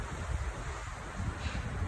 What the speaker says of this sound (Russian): опять начинается ветер ночью